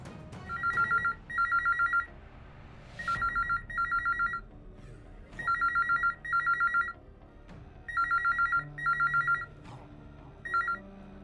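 A telephone rings again on a repeat call, clear double-burst electronic rings repeating in a steady pattern, about five pairs and a final short burst, loud and close with brief soft knocks between.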